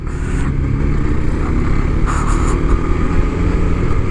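A motorcycle engine drones loud and close during a road ride, with steady low rumble and rushing wind noise throughout.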